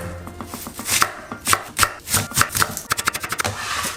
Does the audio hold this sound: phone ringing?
no